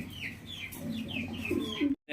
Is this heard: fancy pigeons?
yes